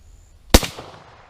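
A single loud, sharp rifle shot from a .303 British firing a flatnose cast bullet, a hard crack followed by a short echoing tail outdoors.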